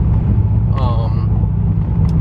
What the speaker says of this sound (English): The Invidia R400 has the perfect exhaust note.